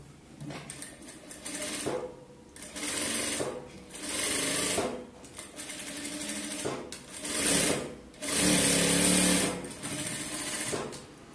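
A sewing machine stitches blouse lining along a marked line for a close-neck blouse, several bursts of fast, even needle rattle starting and stopping with brief gaps, close and clear.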